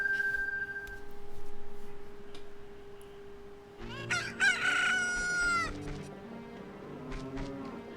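A cucco rooster in the Ocarina of Time video game crows loudly in a rising and falling game-audio call, following a steady tone of background music.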